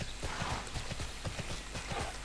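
Horse hooves galloping in the online role-playing game Tera Online, a rapid steady clip-clop rhythm close and clear throughout.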